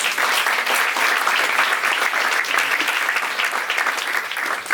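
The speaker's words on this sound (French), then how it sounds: "Acclamons déjà pour ça" Loud, sustained applause from a church congregation, dense clapping that fills the whole stretch without pause, fading only slightly at the end.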